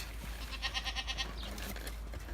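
Goats bleating on a mixed-age farm herd, a few rhythmic, nasal calls close by in quick succession over faint background noise.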